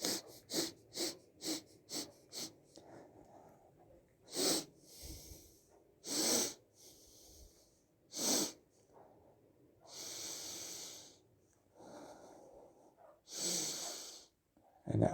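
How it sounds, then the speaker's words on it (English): A person breathes in through the nose and out through the mouth, with a series of sharp nasal sniffs followed by longer, breathy exhales. The sounds are close and separated by short quiet gaps. "Breathe through your nose, and it comes out of your mouth."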